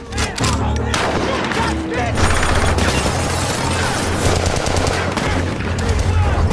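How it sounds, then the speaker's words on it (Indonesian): Gunfight scene in a film: dense, sustained gunfire with rapid bursts and booms layered over a busy, loud soundtrack, continuous from start to finish. "Ketika sedang baku tembak"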